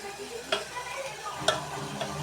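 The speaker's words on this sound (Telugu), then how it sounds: "ఇప్పుడు బాగా టమాటా అవన్నీ మగ్గుతున్నాయి" Tomatoes and cucumber cooking down in a pan, a soft steady sizzle with a few scraping stirs at irregular moments, close and moderately quiet.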